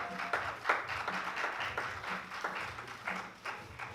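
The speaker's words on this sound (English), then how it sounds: "Let's give our cast one more round of applause" An audience applauds the cast after an original stage play, a soft scattered round of clapping heard from some distance with a low murmur underneath.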